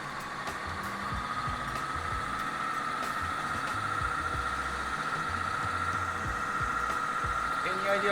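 A balancing machine in a machine shop spinning a moving engine component at about 900 RPM gives a steady, continuous mechanical hum with a faint whine that stays level throughout.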